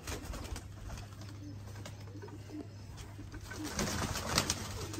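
Breeder pigeons in Sialkot coo in a low steady drone throughout, with the sound swelling louder near the end amid faint background noise.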